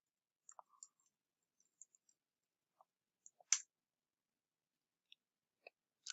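A few sparse, faint computer mouse clicks in a quiet room, isolated short ticks spaced over several seconds with one slightly louder click near the middle.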